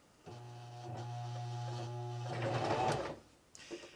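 A sewing machine run by a foot pedal stitches steadily with a near, even motorized hum, speeding into a brief busier whir before stopping, then a small clack.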